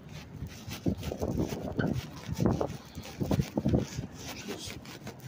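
Gusting wind blows outdoors on a cold day, rumbling and buffeting in uneven bursts close to the microphone, with no voices heard.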